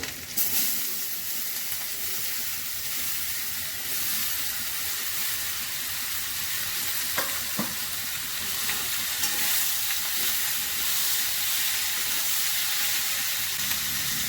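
Ash gourd pieces hit hot oil in a pan with ginger and bay leaves, setting off a loud, continuous sizzle and hiss, with a couple of brief scraping stirs partway through.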